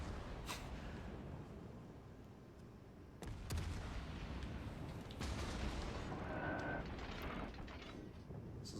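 Naval guns fire in World of Warships Legends, heavy booming salvos landing at about three and five seconds over a steady rumbling battle background, with a softer thud early on.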